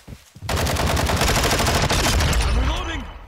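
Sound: gunfire in the Call of Duty video game

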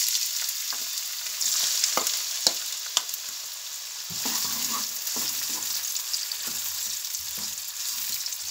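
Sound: onions sautéing in hot olive oil in a pan

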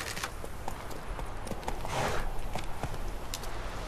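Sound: horse hooves clip-clopping in video game The Witcher 3

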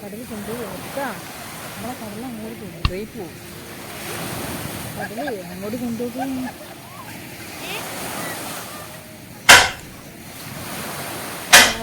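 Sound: sea waves at the beach

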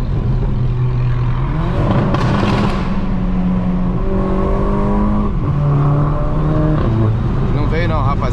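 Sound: car revving with exhaust pops

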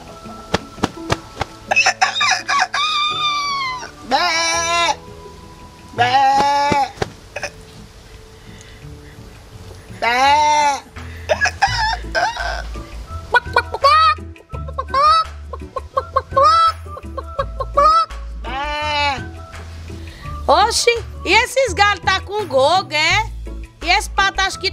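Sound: startled chickens clucking in a pigsty

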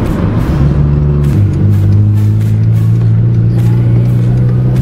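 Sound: car exhaust loud in fourth gear

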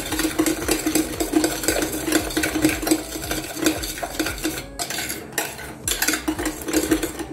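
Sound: mixing cake batter with egg in a bowl

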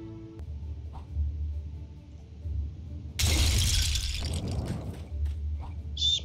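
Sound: smashing through a roof in the video game LEGO Worlds

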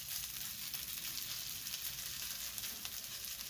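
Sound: grated potato rösti frying in a pan

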